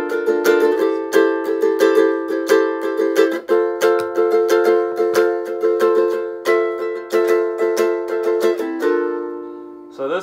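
Ukulele strummed through the first verse of a song, bright rhythmic chord strokes repeating steadily at close range with no voice over them.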